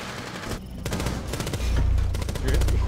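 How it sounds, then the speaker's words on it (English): Rapid automatic gunfire from the tactical shooter game Rainbow Six Siege in a Consulate team deathmatch, dense overlapping bursts that swell louder and heavier midway with deep booming low end, continuous for several seconds. "They just shot you guys in the legs like 100 times"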